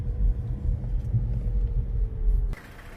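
A car drives slowly through a residential neighborhood, its low engine and road rumble steady and close before dropping away abruptly near the end.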